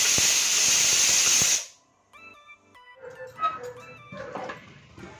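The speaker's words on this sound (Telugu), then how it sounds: "ఇప్పుడు రెండు విజిల్స్ అయినాయండి ఇంకొక రెండు విజిల్స్ అయితే ఆపేసుకుందాం" A pressure cooker cooking chicken haleem lets out a loud, steady hiss of escaping steam for about a second and a half, then cuts off abruptly, leaving quieter scattered tonal sounds.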